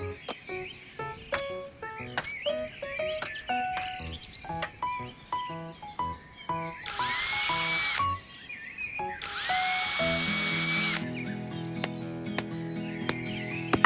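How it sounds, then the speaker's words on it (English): A cartoon power drill whirs into a garden wall in two loud, steady bursts of a couple of seconds each, set against light, bouncy background music. "Hand me the drill, please."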